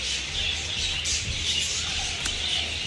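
Bright, continuous bird chirping fills a marine park with dolphins, dense high twittering with a few sharper calls standing out, no voices over it.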